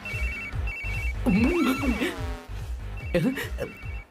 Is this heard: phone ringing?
yes